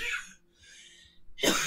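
A person coughs a few times indoors at close range, a short rough hack followed by quieter breathy sounds and then one louder, harsher cough at the end.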